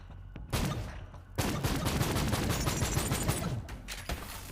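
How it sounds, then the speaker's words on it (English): Rapid gunfire from an 8-bit style weapon in the shooter game Borderlands 3, a brief burst then a dense, continuous volley of shots that stays loud and close for several seconds. "Shooting your 8-bit fucking gun. It makes little blinky noises, like plunk plunk."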